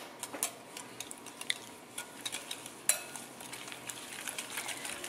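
A utensil stirs sugar into eggs in a bowl for oatmeal cookie dough, giving quiet scraping and clinking taps in an uneven rhythm, with a sharper knock near the middle.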